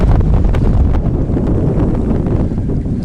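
Strong wind while kayaking buffets the microphone with a constant, heavy low rumble and roar, without letup.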